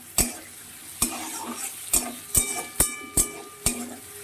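Bay leaf, dried chilli, cumin, ginger, tomato pieces and cashews frying in oil in a pan, a soft steady sizzle broken by about eight sharp metallic spatula clinks at an uneven pace, no speech.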